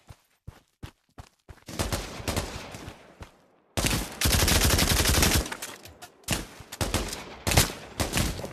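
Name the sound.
M3 grease gun firing in the video game Pavlov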